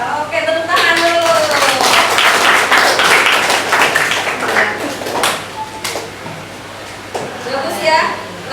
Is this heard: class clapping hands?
yes